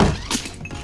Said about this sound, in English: When I disengage the wizard, the anchor should fall straight down.